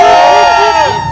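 Large stadium crowd at the Penn Relays roaring and cheering in a sustained wash of voices, with shouts and whoops rising over the din; loud and continuous throughout.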